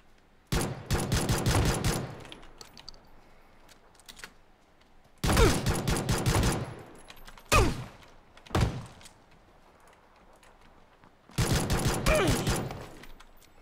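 Shotgun fire in the video game PUBG: several loud, close blasts in bursts, some rapid and overlapping, separated by short quiet gaps.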